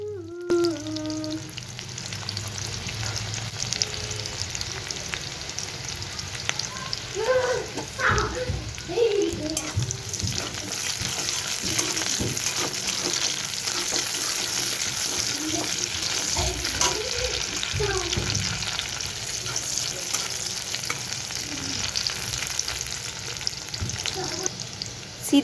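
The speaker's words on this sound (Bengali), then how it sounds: "এই যে রসুন আর লঙ্কা এখন হালকা ফ্রাই হয়ে গেছে" Chopped garlic and green chilies fry in oil in a pan with a steady, close sizzle, punctuated by the scrape of a stirring utensil, while a voice talks intermittently.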